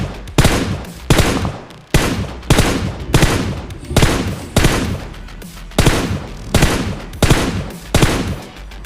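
M416 rifle gunfire in the video game PUBG Mobile during a solo versus squad fight: a steady run of about sixteen loud single-tap shots, spaced roughly half a second apart, each with a sharp crack and short decaying tail.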